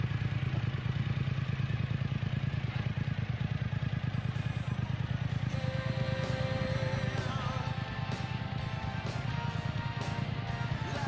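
Motorcycles at the Wild Ox bike night in Leicester rumble steadily at a distance, a continuous mix of idling and revving engines with clattering, busy background noise.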